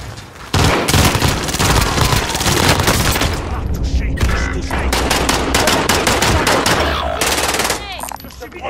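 Loud, sustained machine gun fire in a video game, with rapid dense bursts that run almost continuously and a brief lull in the middle, mixed with booms and some voices underneath.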